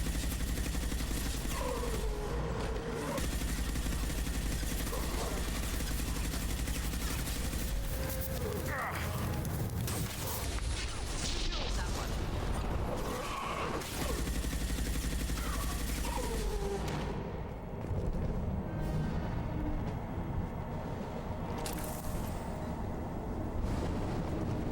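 Gunfire in the video game Mass Effect 2 during a fight with husks: a continuous roar of bursts and booms with rumbling effects, dense and loud throughout, with game voices in between.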